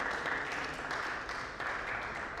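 Another round of applause for Alice at a gathering: continuous, even clapping from many people, a moderately distant wash with no voices over it.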